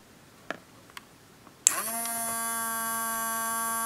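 A few small clicks, then the small electric motor of a DIY automatic fish feeder starts abruptly and runs with a steady buzzing whine, close and continuous.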